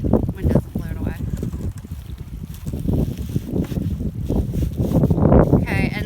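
Wind gusting outdoors in a backyard, a steady rushing buffet over the microphone, with people talking through it.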